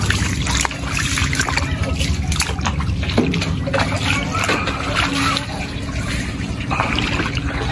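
Wading through floodwater in Laguna after Typhoon Kristine, a steady sloshing and splashing with trickling water, close by, with voices talking over it.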